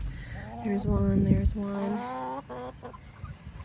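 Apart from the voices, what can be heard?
Wyandotte chickens clucking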